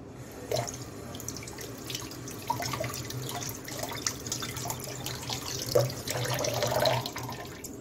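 Kitchen tap running while an apple is washed under it, a steady close splashing stream with small knocks and drips as the fruit is turned in the water.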